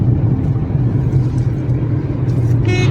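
A Renault Kwid rolls along a potholed road, a loud, continuous low engine and tyre rumble filling the cabin, with faint rattles near the end and no speech.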